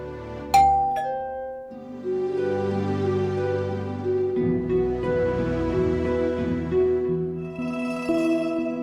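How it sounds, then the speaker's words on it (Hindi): A ding-dong doorbell chime rings out at a home, a bright two-tone strike followed by sustained ringing tones over low music, clear and close with no talk. "अभी कभी भी हमारे घर की घंटी बज सकती है।"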